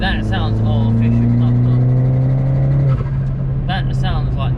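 A Ford Fiesta ST running a Revo RT330 turbo upgrade accelerates hard, its loud, close engine note climbing steadily in pitch with turbo whoosh layered over it, and voices audible faintly underneath.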